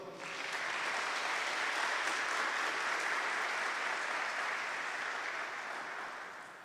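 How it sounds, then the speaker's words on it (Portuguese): Audience at a Catholic talk on consecration to Our Lady breaks into warm, even applause, a dense wash of clapping that swells and then slowly fades, with no talking over it. "Pode aplaudir."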